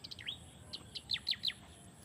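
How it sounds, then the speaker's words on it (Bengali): A bird gives a quick series of about six clear, high chirps, close and distinct against a quiet background. "এই যে পাখির ডাকটা শুনেন"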